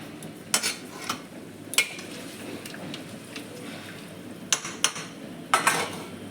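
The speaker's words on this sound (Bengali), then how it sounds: "সবজিটা যেন তাড়াতাড়ি সেদ্ধ হয়ে যায় তার জন্য ঢেকে দেব।" A metal lid goes onto a pan of vegetables and small mourala fish, making a few sharp clinks and clatters over a steady soft sizzle. The clinks come in short scattered bursts, close and fairly loud.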